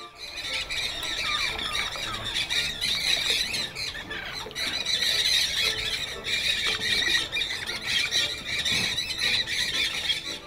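A loud, dense chorus of squawking and squealing birds fills an Ecuadorian rainforest near the Añangu community, many calls overlapping continuously with no pause and no voices.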